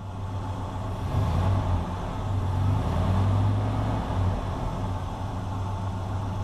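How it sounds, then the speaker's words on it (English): Engine of a vehicle revved briefly, swelling into a steady low rumble and settling back toward an idle around 1200 rpm, continuous and fairly close, with no talk over it. "Rev it real quick."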